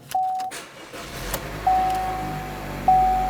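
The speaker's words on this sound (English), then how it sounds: "Now we're going to start our vehicle" A 1.4L Chevrolet Cruze engine turns over and settles into a low, steady idle, with a few electronic chime tones sounding above it.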